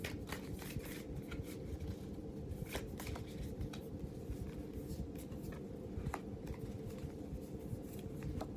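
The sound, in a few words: shuffling tarot cards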